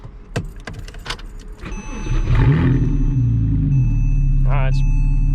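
A few clicks and a brief cranking lead into a straight-piped Porsche Cayman S engine catching and roaring to life, then settling into a deep, throaty, steady idle with a raspy exhaust note.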